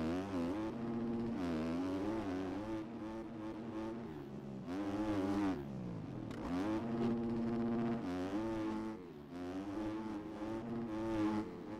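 A motocross bike in MX Bikes screams at full throttle, its engine pitch rising and dropping repeatedly through gear changes and brief lifts, loud and close with no talking.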